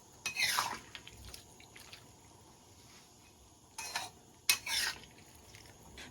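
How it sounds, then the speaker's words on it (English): Potatoes, green beans and ribs are stirred in a pan, with a few short scraping, clinking bursts of a utensil against metal separated by quiet stretches. "Stir potatoes, beans, and ribs together now."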